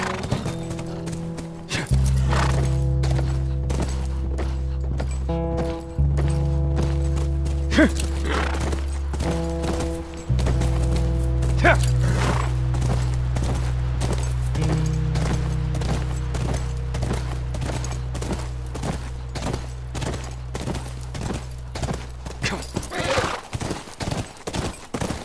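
Horse hooves clip-clop steadily and continuously alongside a sustained musical drone, with occasional whinnies and sharp hits punctuating the rhythm, in the video game The Last of Us Remastered.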